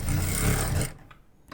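A sewing machine stitches fabric in a short, loud burst of rapid mechanical rattle that stops abruptly, leaving a faint quiet tail.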